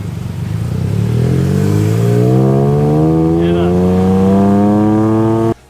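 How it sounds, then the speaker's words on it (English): Deep, rumbly engine of a ride through Bangkok, a loud, close drone that climbs steadily in pitch as it accelerates, then cuts off abruptly at the end. "I love how all their engines are so like deep and rumbly"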